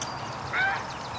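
Geese honking in a yard at three female mallard ducks: a brief nasal honk rising out of a steady outdoor background, moderately close and alone.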